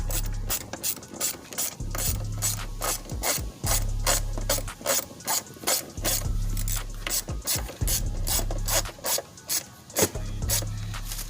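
A hand ratchet clicks rapidly in steady back-and-forth strokes while tightening screws on a 71mm ported throttle body, close and distinct, repeating in several runs with brief pauses and faint talk.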